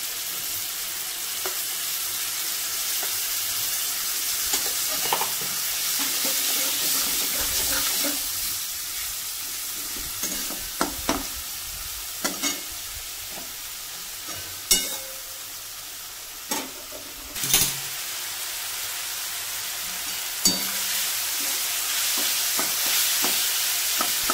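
Garlic fries in oil in a pot for a thin goat-meat curry, giving a soft continuous sizzle over a long stretch. Occasional spatula clinks and stirring scrapes break through, close by, and no one speaks.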